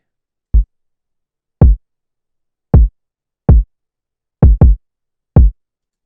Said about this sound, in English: Third thing to add is a kick.